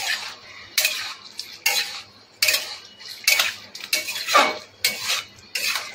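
A taro and potato curry being stirred in a pan over a low gas flame, with repeated clinks and scrapes of a utensil against the pan in an irregular rhythm, close and moderately loud.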